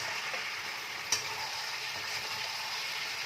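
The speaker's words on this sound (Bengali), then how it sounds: "আদা রসুনটাকে একটুখানি নাড়াচাড়া করে নিলাম।" Ginger garlic paste fries in a pan with cabbage, making a soft, even sizzle heard up close, with one brief clink of a spoon stirring partway through.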